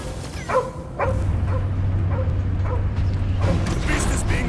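Cosmo the dog barking in the Guardians of the Galaxy video game, a few sharp yips and barks over a steady low mechanical hum and battle ambience, with voices heard in the scene.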